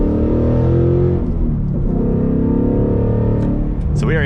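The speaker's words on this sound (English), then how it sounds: "This thing sounds so good with the Corsa exhaust." A 2021-2022 Ford Mustang Mach 1 Premium with Corsa exhaust pulling away in track mode, a deep, loud rumbling V8 drone heard from inside the cabin, steady and close, with a brief higher note near the end.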